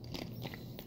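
A Doritos Spicy Sweet Chili tortilla chip bitten close up, a few short dry crunches in quick succession over a quiet room.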